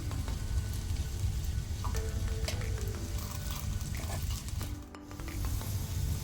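Poha mixture sizzles in a pan as sugar is stirred in to melt, a continuous close frying hiss with light scraping and stirring noises rising over it.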